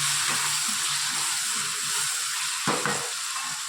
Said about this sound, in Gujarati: 2 મિનિટ આપણે સરસ શાકને તેલમાં ખાવા દીધી.